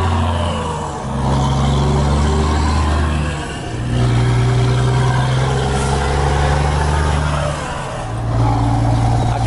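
Volvo FH 600 hp truck engine running, a deep diesel rumble that revs up and settles in repeated swells, loud and close, with no talking over it.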